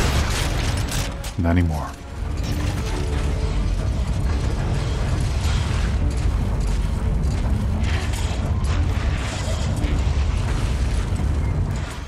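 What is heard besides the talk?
rocket launcher explosions in Dead Space 3 video game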